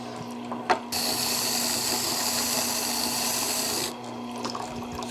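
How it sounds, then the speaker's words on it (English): A sharpening machine hollow grinds the bevel of a specialty knife blade, giving a steady, loud grinding hiss that runs for about three seconds and then stops, with a faint constant motor hum underneath throughout. "I'll go ahead and hollow grind this bevel"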